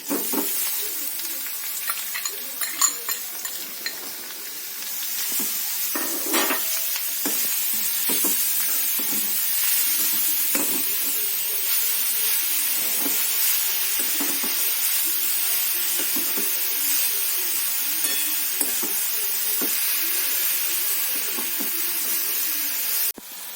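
Grated beetroot sizzling loudly in a hot oiled pan for a stuffed chilli bajji filling, with a steady frying hiss and occasional stirring scrapes close by.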